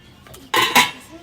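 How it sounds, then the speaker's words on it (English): A metal lid is set onto a pot of dirty rice, two quick clanking clinks close together, loud and near, over a quiet kitchen. "And we are going to put our lid on."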